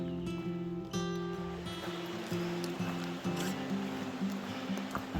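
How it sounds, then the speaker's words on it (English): Broadband rushing water of a creek flows steadily nearby along the Appalachian Trail, with a low tonal hum and faint rustling layered over it throughout. "The sound of Laurel Creek next to me."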